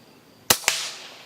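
EDgun Leshiy air rifle firing a shot: two sharp, loud cracks about a fifth of a second apart, each followed by a short decaying tail, with near silence before.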